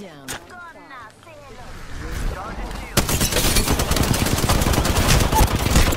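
Rapid automatic gunfire in a shooter video game erupts midway and becomes a dense, continuous loud burst. Before it, a voice speaks and there are lighter game sounds.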